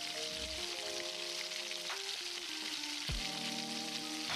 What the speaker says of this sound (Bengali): তারপর কড়াইতে দিয়ে দিতে হবে তেল, এবং তেলটা একটু গরম হয়ে গেলে তাতে দিয়ে দিতে হবে রসুন কুচি, এবং তারপর সেটা ভালো করে লাল লাল করে ভেজে নিতে হবে